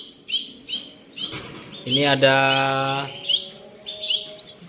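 Caged birds offered for sale at a bird market chirp in short bright bursts, with a longer harmonic call in the middle, close by while someone briefly speaks.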